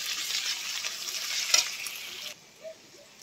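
Garlic and ginger fry in an oily pan after onions, a steady hissing sizzle with a brief stir, then dropping abruptly to a quieter background.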